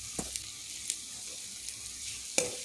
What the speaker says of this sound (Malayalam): മസാലയെല്ലാം എല്ലാ ഭാഗത്തേക്കും എത്തക്ക രീതിയിൽ നന്നായി വേണം ഇളക്കേണ്ടത്